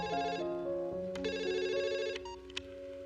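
A phone rings with a melodic electronic ringtone, playing a steady repeating tune at moderate volume with no talk over it.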